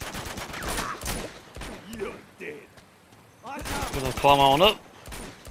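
Rapid gunfire crackles in the Borneo level of the video game Uncharted, bursts of shots landing amid loud overlapping talk from players, with a quieter gap before a final dense volley.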